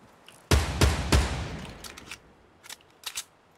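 Gunfire in the video game Fortnite, a quick burst of three loud shots followed by fainter scattered shots and echoes, with no voices.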